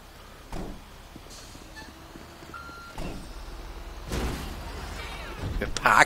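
A garbage truck reversing in GTA V, with a faint warning beep repeating at a steady pace beneath low engine rumble and street noise, some clattering near the end, and voices partly covering it.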